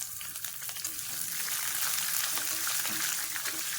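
Capsicum sautéing in a pan with other ingredients for lemon rice, a loud continuous hiss of frying oil with light stirring scrapes throughout.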